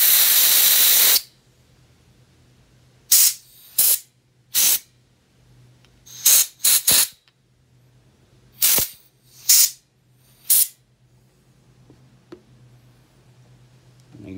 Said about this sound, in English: come back with compressed air and blow these little ports out